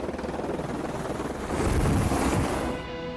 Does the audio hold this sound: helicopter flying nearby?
yes